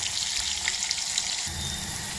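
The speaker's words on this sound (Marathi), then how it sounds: "कांद्याला छान मस्त असं परतून घ्यायचं गुलाबी कलर येईपर्यंत" Onions sauté in hot oil for a paneer masala, a soft steady sizzle and crackle throughout, close but fairly quiet, with a faint stirring shift midway and no talking.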